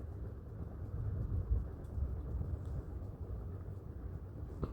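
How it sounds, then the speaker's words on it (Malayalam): Heavy rain falling outside during home cooking, heard as a steady, dense low rumbling wash that holds level for the whole stretch, with no voices. "പുറത്ത് നല്ല മഴയാണ് കേട്ടോ ആ സമയത്ത്"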